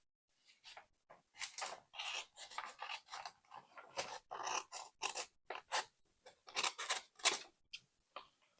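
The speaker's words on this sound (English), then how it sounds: "I'm just going to cut it the same way, where I cut the sides here and here" Scissors snip repeatedly through a junk mail envelope for a handmade mini album, a run of crisp, close cuts in uneven bursts with short pauses between them.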